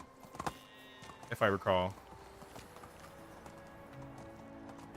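Horse hooves clip-clopping during riding in the village-building game Medieval Dynasty, a short burst of a few quick hoof strikes, with a person speaking just before it and game ambience running underneath.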